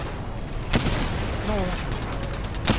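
Video game gunfire: a few sharp shots ring out over a dense, busy background of game noise, with talk heard partway through.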